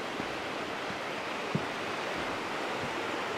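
Steady broadband rush of river water flowing past a wooden deck set right down at the water's edge, a continuous even wash with a few faint knocks, no talking.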